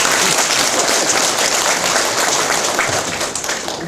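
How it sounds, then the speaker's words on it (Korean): Dense, loud audience applause at an academic seminar hall, continuous clapping filling the whole stretch without pause. "박수 한번 쳐요."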